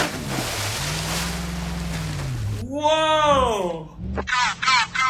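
A flatbed truck ploughs through deep water in the BeamNG.drive game, giving a steady rushing splash and low engine drone before excited voices break in over continued water noise.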